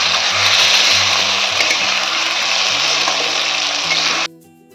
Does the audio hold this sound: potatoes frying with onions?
yes